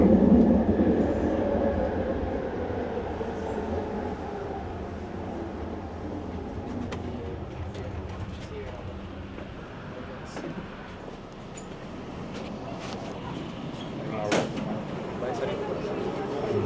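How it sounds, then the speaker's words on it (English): A Vancouver SkyTrain Millennium Line train rumbles steadily at busy Commercial–Broadway Station, with a low continuous hum and occasional clanks, while voices chatter in the background. "This is a Millennium Line train."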